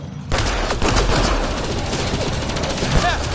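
Dense, sustained gunfire from a Mass Effect Andromeda firefight, with rapid automatic bursts and overlapping shots that run loud and continuous for several seconds and never stop.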